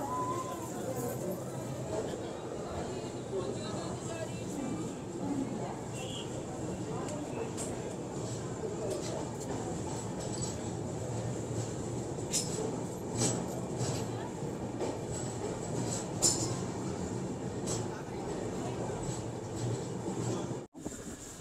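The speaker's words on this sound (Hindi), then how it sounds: "अपनी ट्रेन का बिल्कुल ऑन टाइम डिपार्चर हो चुका है Anand Vihar terminal railway station के" The Poorabiya Express pulls away from platform 7 at Anand Vihar Terminal railway station, a steady close rumble of rail cars rolling under constant train noise, with a brief drop near the end.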